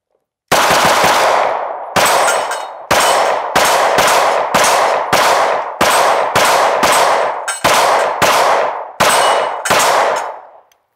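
Rapid fire from an IWI Masada pistol: eleven loud, close gunshots in quick succession, each with a sharp crack and a short ringing decay, with no talking.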